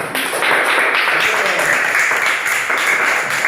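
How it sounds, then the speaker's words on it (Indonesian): Classroom of primary school children clapping hands together for a classmate during a Christian religion lesson, a dense, steady patter of many small hands lasting throughout. "Tepuk tangan semuanya"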